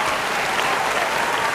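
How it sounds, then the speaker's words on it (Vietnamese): A TV game show studio audience bursts into dense, loud applause, a continuous wash of clapping with no gaps across the short stretch. "Một tràng vỗ tay để chương trình chúng ta được bắt đầu."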